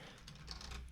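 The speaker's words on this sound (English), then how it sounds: "sorry for the typing noise" Faint, quick clicking of keys on a computer keyboard, tapping in an uneven rhythm.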